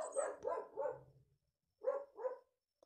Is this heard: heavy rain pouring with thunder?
no